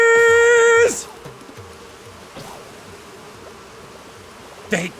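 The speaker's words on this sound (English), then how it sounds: "Other bees!" A swarm of bees buzzes in Animal Crossing New Horizons as a continuous, rhythmic droning hum, with a bright chime-like game tone at the start and sharp rustling bursts near the end.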